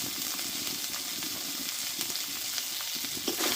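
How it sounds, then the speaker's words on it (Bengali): Spice masala with chopped tomatoes and salt frying in a pan, a steady close sizzle and hiss with faint stirring and no talk. "মশলাটা একসঙ্গে ভালোভাবে কষে নেব"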